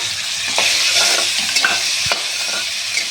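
A ground spice paste of nuts, cumin powder and green chilli sizzles steadily in a hot pan, with a few soft scrapes and clinks of stirring over the continuous close frying hiss.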